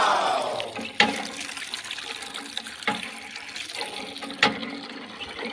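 Tap water gets splashed onto a sleeping son: a steady rush of running water up close, punctuated by three sharp splashes.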